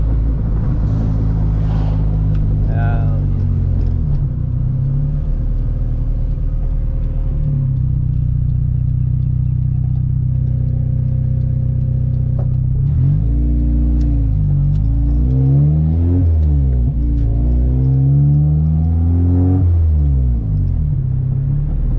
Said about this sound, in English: Hopefully there's no cops because this thing is loud.